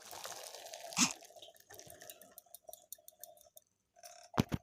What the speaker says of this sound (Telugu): ఇప్పుడు స్ట్రైనర్లోకి వాటర్ అంతా వంపేసుకోవాలండి.